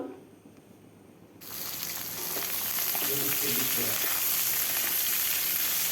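Potatoes fry in hot oil, starting quietly before a loud, steady sizzle takes over and continues up close.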